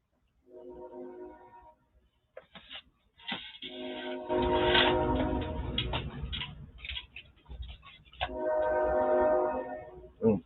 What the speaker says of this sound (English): Train popped in.